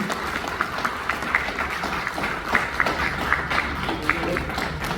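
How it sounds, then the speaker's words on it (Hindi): An audience at a Dubai mushaira claps through an Urdu award presentation, a steady wash of many hands with sharper scattered claps, moderately loud and sustained. "एक बार तालियों की गड़गड़ाहट से हम ये अवार्ड उनके खिदमत में पेश करें।"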